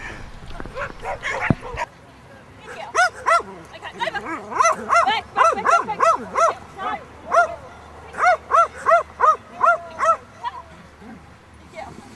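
A dog barks repeatedly in quick, rhythmic bursts of sharp yips, loud and close, with a brief pause midway.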